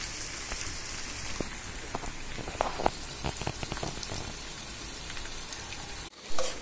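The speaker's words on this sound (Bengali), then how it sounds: "আমার একদিকে ইলিশ মাছ হয়ে যাচ্ছে, আর একদিকে তিত করলা ভাজি, পেঁয়াজ, রসুন, কাঁচামরিচ ভেজে নিচ্ছি।" Hilsa fish and bitter gourd frying in a pan with onion, garlic and green chili, giving a steady, close crackling sizzle like rain, with a few sharper pops, before a brief cut near the end.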